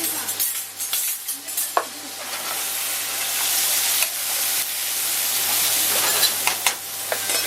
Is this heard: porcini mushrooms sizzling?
yes